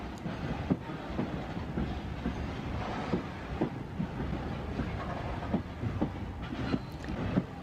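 A freight train of identical wagons hauled by an Indian Railways WAG-5 locomotive rolls past, a continuous rumble with steady rhythmic clickety-clack of wheels over rail joints, moderately close and unbroken.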